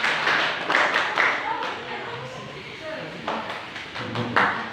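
A group in a pesantren classroom performs the rhythmic 'tepuk semangat' clapping routine, bursts of sharp claps landing in a patterned beat amid talking voices.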